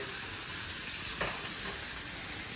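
Steak sears in a pan with butter, making a soft, even, steady sizzle heard close but at low volume, with one brief louder crackle partway through and no talking.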